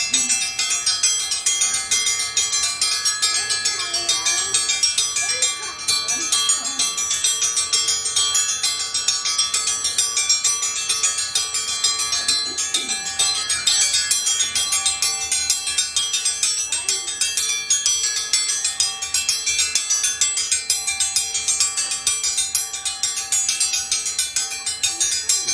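A bell rung at a monkey jungle attraction to call monkeys for feeding, with a bright repeated metallic ringing that continues steadily throughout, fairly loud and close.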